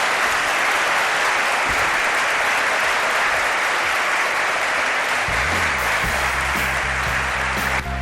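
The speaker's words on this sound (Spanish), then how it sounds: "Pido un aplauso para Miguel Pedrero." Studio audience applause fills the whole stretch, a dense, steady clatter of many hands at close range, with a low tonal musical sting rising underneath near the end.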